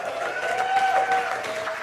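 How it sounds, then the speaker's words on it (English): Brief burst of applause from a stand-up comedy audience, a short, fairly soft wash of clapping with some crowd noise. "A round of applause."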